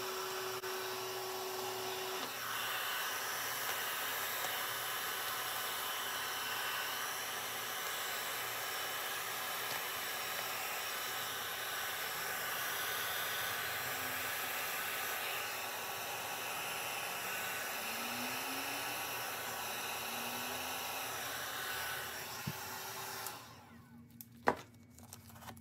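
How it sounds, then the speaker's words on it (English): A heat tool blows hot air in a steady, airy whooshing hum that holds for over twenty seconds, then cuts off, followed by a few small clicks and handling sounds. "I'm applying some heat, hoping that it will help me work"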